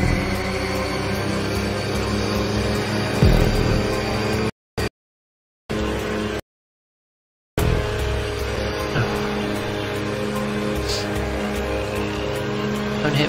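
Hotring race cars in the GTA Online racing game drone steadily with loud, continuous engine noise and occasional tire squeal, broken by two brief dropouts into silence.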